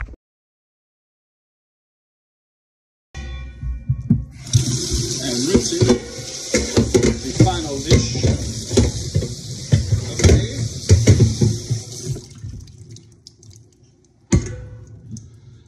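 Running water splashes from a tap with clinking and scraping of dishes being washed, close by, starting after a few seconds of silence and stopping near the end.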